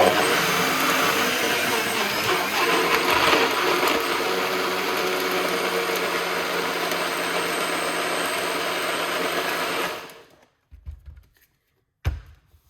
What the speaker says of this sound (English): We're gonna blend up this.